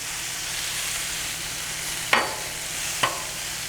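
Inside skirt steak sizzles steadily on a Blackstone griddle, a dense, even frying hiss with two brief louder crackles near the end.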